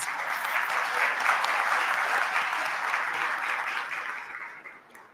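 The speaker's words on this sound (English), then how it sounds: "Let's give them a warm round of applause." An audience at a club gathering for regional mayors gives sustained, dense applause that holds steady before tapering off near the end.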